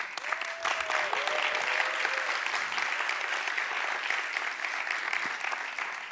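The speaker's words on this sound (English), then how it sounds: "Another round of applause for Charlie!" Audience applause at a TEDx talk at Wageningen University, a steady dense clapping that holds for about six seconds with a few voices briefly audible over it.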